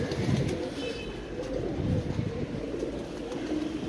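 A pigeon with rain-soaked feathers coos in low, murmuring phrases close by, set against a steady hiss of falling rain.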